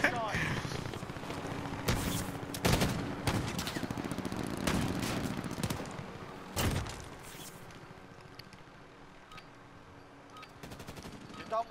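Gunfire in Call of Duty: Modern Warfare Warzone battle royale quads, several sharp bursts of shots and a fusillade over game background noise, with players talking.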